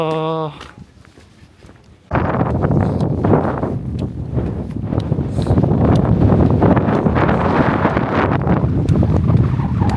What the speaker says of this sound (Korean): 거센 바람이 불어옵니다.